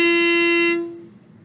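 One bowed F natural on a string instrument, held steadily for under a second, then stopping and leaving a soft reverberant tail.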